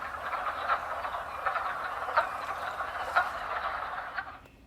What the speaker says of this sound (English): The wood frog is also known for having an interesting croak. It sort of sounds like a duck quacking.